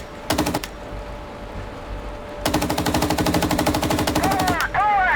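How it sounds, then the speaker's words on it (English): Machine gun fire from an M1 Abrams tank in the PC game Gunner Heat: a short rattling burst, a pause, then a long sustained stream of rapid loud shots, with no talking. "They can't really do it if I keep hosing them down with machine gun fire."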